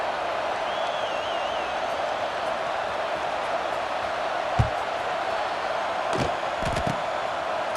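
Stadium crowd ambience from the EA Sports College Football 26 video game, a steady wash of fans murmuring and cheering at an even level throughout, with a couple of brief low thumps near the end.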